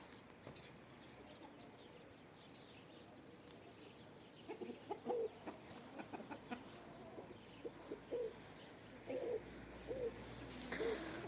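Chickens in a backyard flock make soft, scattered clucks and low calls while feeding, gentle and fairly close, growing more frequent toward the end over a quiet background.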